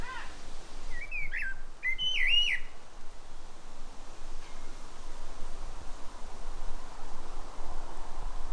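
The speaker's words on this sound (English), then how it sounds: "There's a small colony of sparrows that live in the beech hedge along one side of the garden, and here are the offspring this year." Young sparrows from a small colony in a garden beech hedge give a few thin, high chirps early on, then a steady soft outdoor hiss continues alone.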